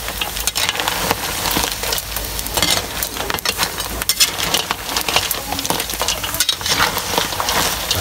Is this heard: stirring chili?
yes